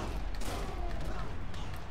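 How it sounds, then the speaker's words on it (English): Explosions going off in a six-man exploding barbed wire match in the wrestling video game Wrestling Empire, heard as a dense, continuous roar of blasts with no clear gaps between them. "so much stuff, explosions happened that I can't even comprehend"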